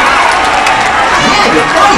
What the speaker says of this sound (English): How about some applause here,